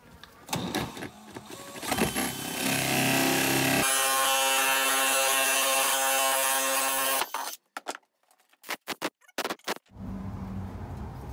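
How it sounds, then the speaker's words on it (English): A 50 mm Forstner bit drills a hole through a plastic bucket lid, a loud steady whirring grind for several seconds that then stops, followed by a few short bursts and handling clatter. "we're going to use that 50 millimeter Forstner bit to drill a hole inside of the lid here"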